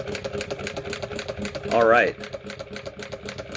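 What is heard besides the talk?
machine stitching to fill in color on jeans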